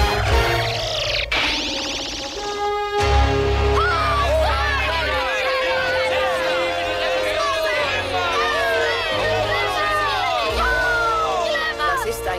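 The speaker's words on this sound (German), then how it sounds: "Hör nur, wie sie jubeln" A cheering crowd in an animated He-Man and She-Ra fantasy scene, a dense wash of shouting voices and excited cries over booming music, with a single voice speaking over it.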